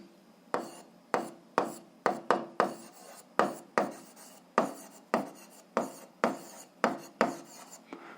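Pen strokes on paper as an algebra answer is written by hand, a close series of about fifteen short scratchy strokes in an uneven rhythm.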